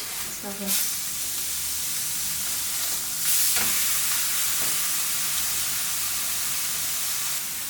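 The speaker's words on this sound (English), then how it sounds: "Once you hear the sizzling, you can flip the meat." Steady hissing sizzle of steak frying in a hot pan, continuous throughout, with a couple of brief clinks near the start.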